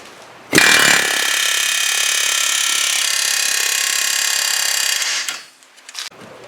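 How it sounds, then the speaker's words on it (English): A loud pneumatic air hammer rattles continuously for about five seconds popping out a bolt on a Ford Focus rear trailing arm, a dense high-pitched buzzing that cuts off abruptly, followed by brief quieter clatter. "now I'm going to use an air hammer on this side to pop the bolt out that side"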